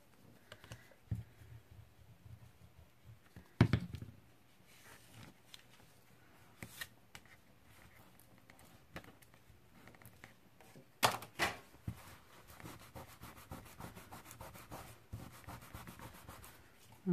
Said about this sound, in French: Je tire mon trait et je viens plier. Je viens mettre de la colle.